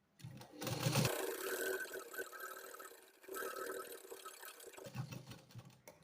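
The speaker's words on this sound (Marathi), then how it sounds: "आता इथे शिलाई घालायची" A sewing machine runs fitting stitches along marked fabric in two close, steady bursts of motor whir with a short pause between them, and no one speaks.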